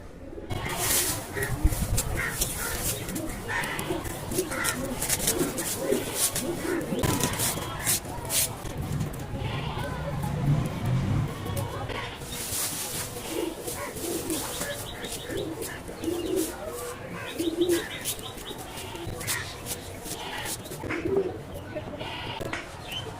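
Pigeons coo softly and repeatedly inside their coop, layered with occasional chirps and rustling, while a person talks nearby.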